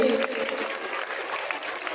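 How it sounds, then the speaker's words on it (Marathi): An audience at the annual cultural function of Sharada Vidyamandir, Angaon, claps for the girls' performance in dense, steady applause that fills the short stretch. "एकदा जोरदार टाळ्या आमच्या मुलींसाठी."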